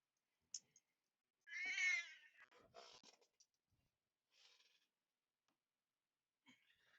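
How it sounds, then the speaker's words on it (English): A cat meowing indoors, one drawn-out meow followed by a few shorter chirping calls and a faint brief mew later, fairly close but soft, with no talk over it. "My cat decided to make a cameo and then had to leave very abruptly."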